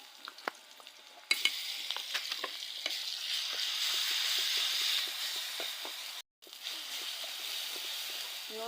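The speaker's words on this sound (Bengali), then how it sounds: "কাঁচামরিচ আর পেঁয়াজ কুচি দিয়ে দিচ্ছি। কিছুক্ষণ ভেজে নেব।" Green chili and chopped onion sizzle in hot oil in a kadai for lentil fry, with a steady loud frying hiss, scattered stirring clicks and a brief cut-out near the end.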